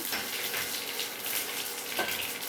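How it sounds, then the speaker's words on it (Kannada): Mustard seeds and a spoonful of cumin crackle and sizzle in hot oil while a Kannada-style basale dal tempering is cooked, a steady close frying hiss with a brief sharper burst near the end. "ಸಾಸಿವೆ ಹಾಕ್ತೀನಿ ಕಾಲಿಗೆ ಕಾಲಿಗೆ ಸ್ವಲ್ಪ ಜೀರಿಗೆ ಹಾಕ್ತೀನಿ ಚೆನ್ನಾಗಿ ಒಂದು ಸ್ಪೂನ್ ಜೀರಿಗೆ ಹಾಕ್ತೀನಿ"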